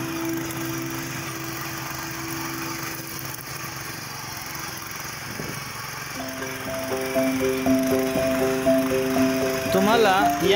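Small engine of a Sraja Raja Enterprises mini power tiller rotavator running, a steady buzzing drone that grows louder and rougher partway through, with a higher whining tone near the end.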